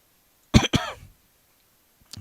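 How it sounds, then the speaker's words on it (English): A person coughs twice in quick succession, close and clear, followed by quiet and a faint short breath or throat sound at the end. "I've got a slight cough again"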